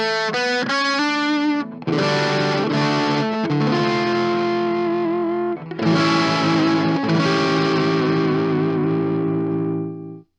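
Cheap beginner electric guitar rig with distortion turned almost to zero, playing loud strummed chords and picked notes in several bursts with short gaps, ringing out with a light effects tint.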